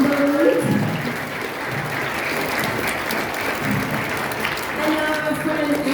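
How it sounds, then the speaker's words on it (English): Audience applause after a touring Arab dance folktale performance, a dense steady wash of clapping that holds loud for the full stretch, with voices and crowd murmur mixed in underneath. "if you will put your hands together and clap for our friend Lucia on the right"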